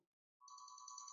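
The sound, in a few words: phone ringtone ringing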